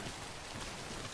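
Rain falls in the video game Death Stranding, a steady, faint, even hiss of downpour with no other sounds on top.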